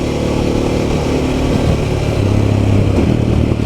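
A Harley-Davidson Pan America motorcycle on Pirelli Scorpion Rally STR tyres rides along with a steady, close engine drone and road and wind rumble, with no voices.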